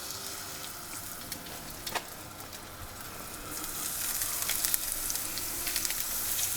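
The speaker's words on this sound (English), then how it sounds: "We want to get a nice sear on these." Blackened salmon sears in hot avocado oil, giving a steady close sizzle and crackle that rises a little louder midway, with no voices over it.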